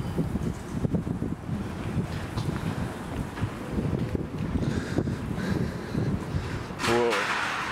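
Wind rushes through an abandoned mill as a constant low roar and gusty blowing, with a brief louder gust near the end.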